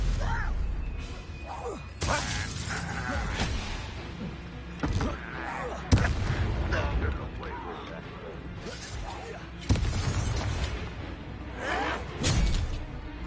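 Spells cast in combat in Hogwarts Legacy land as sharp cracks and whooshing bursts, several separate loud hits spaced a second or two apart, mixed with game voices and a spoken commentary.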